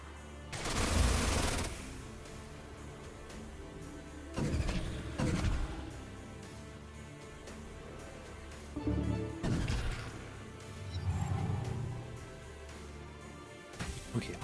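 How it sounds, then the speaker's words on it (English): Turrets firing in the Age of Wonders: Planetfall strategy video game, heard as several separate loud bursts of shots or impacts spaced a few seconds apart over a steady game background. "our turrets are taking their shots"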